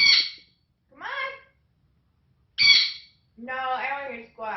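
A pet talking bird gives a run of loud, close squawks: sharp bursts separated by short pauses, and a longer harmonic call near the end that sounds almost like a voice.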